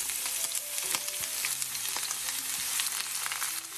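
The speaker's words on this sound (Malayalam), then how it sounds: "അതിനുശേഷം ഞാൻ ഇതിലേക്ക് നമ്മുടെ പടവലങ്ങയും കൂടെ ഇട്ട് കൊടുക്കുകയാണ്" Snake gourd pieces and curry leaf stems fry in hot oil with mustard seeds, giving a dense, loud, continuous sizzle close by, with faint crackles running through it.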